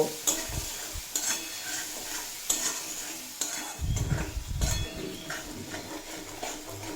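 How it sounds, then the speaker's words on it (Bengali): Potatoes with spices and Kashmiri chilli powder stir-fried in a pan for a pumpkin dish, with a steady sizzle, scraping spatula strokes and a heavier low rumble of stirring midway, close and alone. "আলুর সাথে মশলা খুব ভালোভাবে কষিয়ে নেওয়া হয়ে গেছে"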